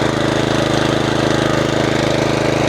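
A petrol HECHT lawn mower engine runs steadily just after being pull-started, a loud, close, continuous chugging with even rapid firing pulses and no talk over it.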